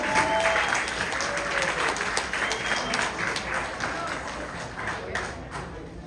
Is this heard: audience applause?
yes